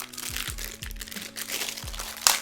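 Close crinkling and crackling of stiff sealed plastic packaging for a microphone boom arm as it is pulled and worked open, with a sharper crackle near the end.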